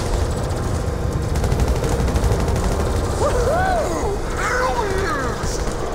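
Gunfire in Grand Theft Auto Online during an alien shootout: dense rapid shooting under loud continuous noise, with a warbling effect rising partway through.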